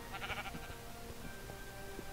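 A sheep bleats in a video game dockyard, a short wavering cry near the start over a faint ambient hum and soft background clatter.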